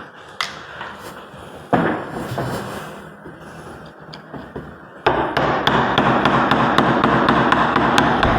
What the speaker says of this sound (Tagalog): Kuha ako ng martilyo. Yan, may martilyo na tayo. Mamartilyo na lang natin.